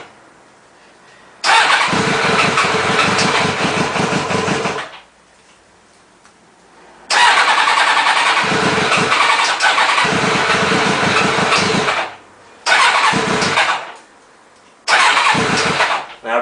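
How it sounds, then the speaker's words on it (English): Kawasaki ZX7R motorcycle with the choke disconnected, cranked on the starter motor in four loud close bursts of whirring, each lasting a few seconds with pauses of near silence between them, and no talk. "these work while the starter motor is going and the bike turns on"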